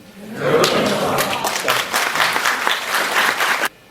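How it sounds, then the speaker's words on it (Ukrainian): Audience applause at a Ukrainian Defenders Day ceremony, a dense burst of many clapping hands that swells in quickly, holds steady and loud for about three seconds, then cuts off sharply. "Вітайте оплесками"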